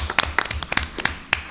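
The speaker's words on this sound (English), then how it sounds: "let's clap for him because that's awesome." A few people clap sparsely at a town council meeting, with irregular, distinct individual claps in a short burst rather than a full crowd ovation.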